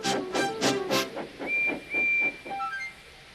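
A steam engine's whistle sounds in a few short, high tones over a soft hiss of escaping steam, after a brief busier burst at the start.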